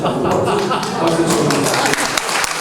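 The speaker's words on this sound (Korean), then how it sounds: "우리 서정인 의원은 너무 박수를 많이 받으시는데 박수" Applause from an audience at a founding meeting for a memorial hall in Jinju, loud and continuous clapping mixed with voices talking throughout.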